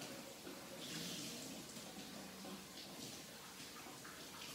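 Norwex cloths being rinsed under a running tap, a steady close rush of water into a sink that continues evenly throughout with no talking.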